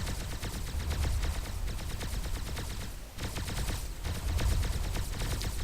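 Rapid, continuous automatic turret fire rattles loudly and up close in a video game, a dense unbroken stream of shots with a brief dip midway, with no talking over it.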